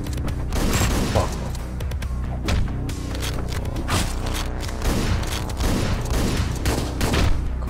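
Rapid shotgun blasts and booming gunfire from the video game Hotline Miami 2, a dense run of loud, punchy shots and thuds with no talking.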